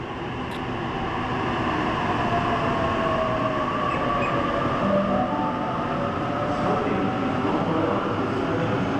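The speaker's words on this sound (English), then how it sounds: "Now we have the Springwood Oscar now arriving into Blacktown." A Springwood service led by locomotive H42 arriving into Blacktown station: a loud, steady rumble of wheels and carriages runs the whole way, with faint squeal tones rising above it.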